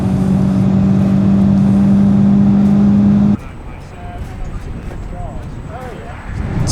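A car bought at auction revs hard toward 5,000 RPM on a race track, a loud steady engine drone that cuts off abruptly to quieter rumbling with faint whines.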